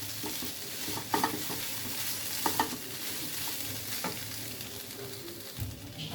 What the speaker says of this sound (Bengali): আবার একটু নাড়া দিয়ে দিব